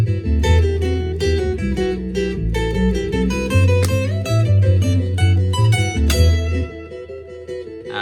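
An electric guitar plays a layered melody over a looped part built with a loop pedal, dense sustained notes and rhythmic plucking continuing steadily before thinning out near the end.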